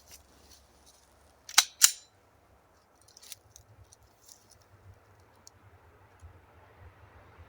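Two sharp, loud reports from a Smith & Wesson M&P pistol in .45 ACP fired with iron sights, coming in quick succession, followed by a faint third crack and low background rumble.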